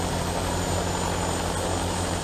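Steady, loud rotor and engine roar from a Defiant X high-speed military helicopter in low-level flight, a continuous drone with a low pulsing beat and no voices.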